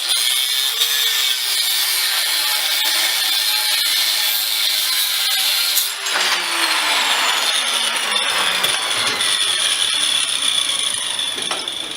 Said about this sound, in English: I take that same angle grinder with the same cutoff